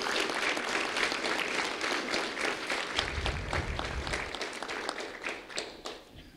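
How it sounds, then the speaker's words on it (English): An audience at a Lee County Sheriff's Office recognition event for a first-grade student applauds steadily, with dense, continuous clapping from a crowd throughout and no break. "a round of applause for Jalen Abbott"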